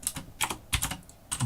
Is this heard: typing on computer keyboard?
yes